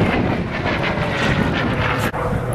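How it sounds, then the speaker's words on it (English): A Hawker Sea Fury piston-engine propeller fighter streaks overhead at the Flying Legends air show at Duxford, its loud, roaring engine note sustained throughout, with a brief gust of wind noise near the end. "fighter you've seen streaking across the sky is a Hawker Sea Fury"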